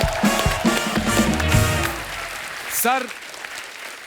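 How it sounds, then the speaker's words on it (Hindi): Audience applause on The Kapil Sharma comedy show, loud clapping and cheering from a studio crowd with someone speaking over it, fading out toward the end. "गुरुदेव की जोरदार तालियां इनके लिए"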